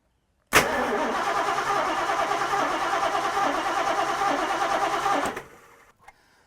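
A Ford 390 V8 starting for the first time in 20 years: a brief cranking burst catches into a steady, loud running rumble for about five seconds, then cuts off and dies away. No one speaks.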